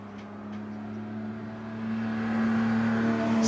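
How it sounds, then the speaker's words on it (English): A heavy racing car pulls away from the start line at the Shelsley Walsh hillclimb, its engine a steady droning hum that swells gradually in loudness, with no voices over it. "It's a big lump of a car to get off the line."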